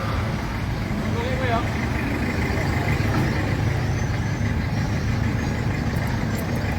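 Trucks lined up in a queue at an SPBU fuel station in Kotabaru, OKU Timur, waiting for diesel: a constant low rumble of idling engines with broadband road noise, unbroken throughout and fairly loud.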